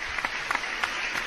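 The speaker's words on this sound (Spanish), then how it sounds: "Aplausos" Applause from a radio studio during a live show, faint and steady, with a few sharper claps standing out over a brief wash of clapping.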